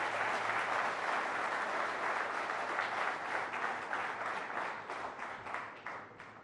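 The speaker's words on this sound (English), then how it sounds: "Please give him a round of applause." An audience at the News18 Rising Bharat Summit gives the Prime Minister a sustained round of applause. The clapping is steady and moderately distant, and it thins slightly toward the end.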